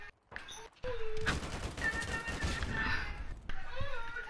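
Rapid bursts of in-game gunfire from Modern Warfare fill most of the stretch, loud and dense, with a player's voice talking over parts of it.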